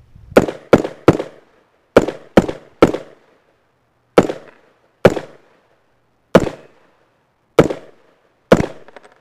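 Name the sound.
AR rifle gunshots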